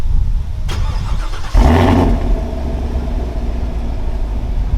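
A car starts by remote on its stock exhaust: a quiet idle-like hum, then a sudden loud crank and catch into a rumbling idle that settles to a steady low drone.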